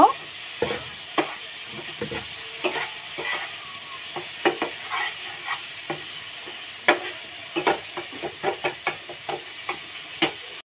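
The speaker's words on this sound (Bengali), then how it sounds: "মশলাটা ভালো করে কষে নেব।" Masala paste for a prawn curry with mustard and coconut is sautéed in a pan: a low sizzle under frequent sharp scrapes and taps of the spoon, repeated irregularly and close by.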